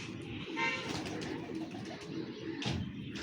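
Teddy breed pigeons coo softly and repeatedly at close range, a low steady murmuring bed with faint higher bird calls on top and no talking.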